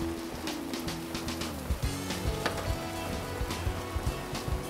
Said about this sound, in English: you can see we have a weather situation here. Well, a little rain never stopped a dedicated griller.